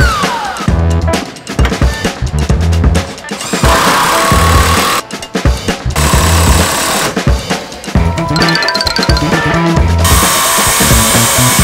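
Power drill driving decking screws into the wooden base of a homemade trebuchet, with repeated loud bursts of motor whine and ratcheting that stop and start in short runs, close up and with no talking.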